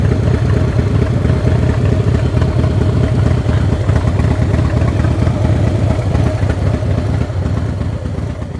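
A 2014 Harley-Davidson CVO Breakout motorcycle idles steadily up close, its deep V-twin engine giving a loud, continuous low rumble with a lumpy, clattering pulse, holding a constant level throughout.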